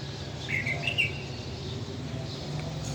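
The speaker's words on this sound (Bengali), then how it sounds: "কি সুন্দর পাখির শব্দ!" Birds chirp at dawn around a rooftop garden after the morning prayer, a few bright tweets standing out early over a low steady background of distant insects and hum.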